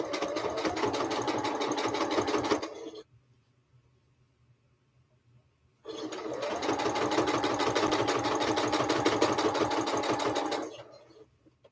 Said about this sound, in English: you can just hold them like this and sew